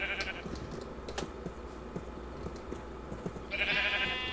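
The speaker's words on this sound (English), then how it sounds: "Ooh, wow, a wild pink sheep." A pink sheep in Minecraft Java Edition 1.16 gives two short, thin digital bleats, one at the very start and one near the end, over quiet game ambience.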